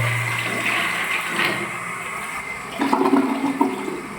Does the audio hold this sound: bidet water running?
yes